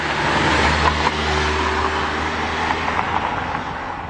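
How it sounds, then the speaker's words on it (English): A Mercedes-Benz C230 Kompressor's supercharged 1.8-liter four-cylinder engine hums steadily under acceleration with a low droning tone and broadband road rush, holding a smooth, even level throughout. "Hit it, supercharger spools right up, and listen, buttery smooth."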